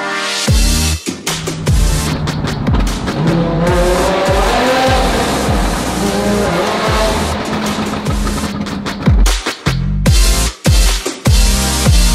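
Supercars on a rally along the PCH, including a Lykan Hypersport, rev and accelerate hard through a short tunnel, a loud, close barrage of engine roars, gear-change blips and echoing bursts with sharp pops near the end.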